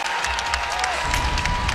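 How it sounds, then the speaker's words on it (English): A basketball crowd at an NCAA women's tournament game between Robert Morris and Louisville rises with cheering and applause, a steady roar of clapping and voices filling the arena and swelling toward the end. "that brings the crowd to their feet right there"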